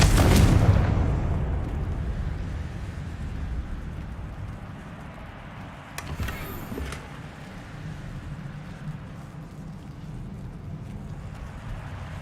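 A Confringo blasting spell goes off in Hogwarts Legacy as one loud, close explosion, then fades into a long rumbling tail. A faint crackle or flicker comes partway through.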